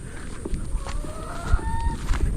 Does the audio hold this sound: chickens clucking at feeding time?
yes